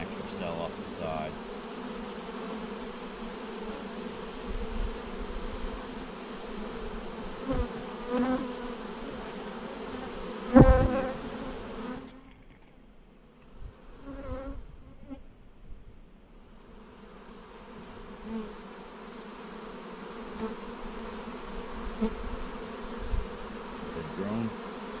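Honeybees buzz in a dense, steady hum during a hive check, close and continuous, with a sharp knock partway through and a brief dip where the buzzing thins before swelling again.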